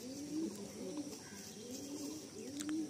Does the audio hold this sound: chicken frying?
no